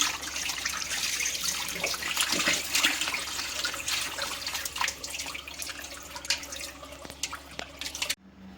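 Potatoes are rinsed under a running kitchen tap, a steady splashing stream with scattered drips and light clatters, close and fairly loud, before the water cuts off abruptly near the end.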